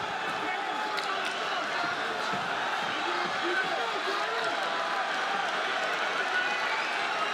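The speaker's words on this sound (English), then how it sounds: "This crowd is loving it." An arena crowd at Madison Square Garden roars continuously during a mixed martial arts fight between Wonder Boy Thompson and Tyron Woodley, with commentators talking over the steady, distant din.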